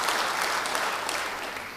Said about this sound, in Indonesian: Beri tepuk tangan buat dia.